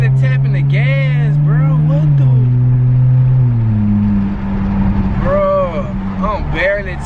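A 2019 Chrysler 300 engine revs in short climbing bursts as the gas pedal is lightly tapped, loud and close, with someone talking over the engine noise.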